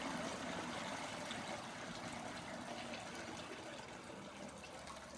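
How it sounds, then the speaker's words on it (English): Homemade beer steeping liquid poured through a filter, a faint steady trickling and splashing wash of water that continues evenly without breaks and without talk. "pour the steeping liquid"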